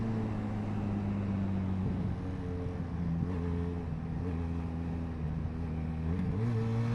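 A Benelli Leoncino Trail 500 scrambler motorcycle engine revs up and down in several rising pulls over a steady low idle, heard fairly close with no talking.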